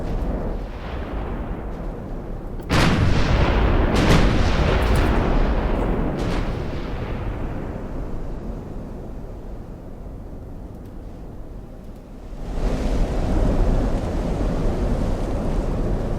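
Heavy 12.9-inch naval shells raining down in the warship game Ultimate Admiral: Dreadnoughts, a loud sustained roaring rumble broken by several sharp booming impacts, dense and continuous with no voices.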